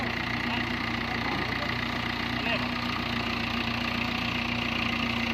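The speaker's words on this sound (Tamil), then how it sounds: "இப்போ லோ பட்சில் போட்டுருக்காங்க நண்பா. அதுக்கு வண்டி லைட்டாக திணற அளவில் இருக்குது." A Mahindra Bhoomiputra tractor with 575 kg wheel weights labours in low gear while levelling soil, giving a steady, loud, continuous engine drone with a faint strained knock that runs unbroken throughout.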